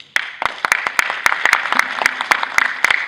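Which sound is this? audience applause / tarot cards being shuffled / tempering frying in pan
audience applause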